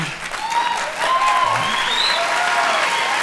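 Applause from the audience at the 1998 Golden Globes ceremony, a dense, loud, sustained wash of clapping from a large indoor crowd with a few faint cheers and whistles riding on top.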